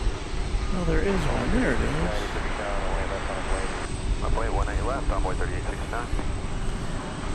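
A Frontier Airlines plane bound for Las Vegas at DFW Airport, its engines producing a steady, fairly loud roar under excited speech from a nearby spotter.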